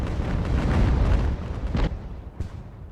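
Cannon shot from the naval battle game Ultimate Admiral: Age of Sail landing in fields around a fort, heard as a heavy, sustained rumbling roar of impacts followed by a couple of separate dull booms as it dies away.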